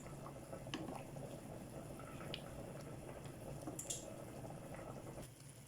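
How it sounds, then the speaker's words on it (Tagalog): Rice bubbling and simmering in a pot of water on the stove, a steady soft boiling texture with faint drips and pops, no talking. "Ayan yung kanin, kumukulo pa siya."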